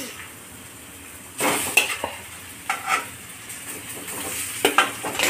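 Potatoes go into a hot frying pan and are stirred, with a rising sizzle and several scraping, clinking strokes of a utensil against the pan, close and without speech.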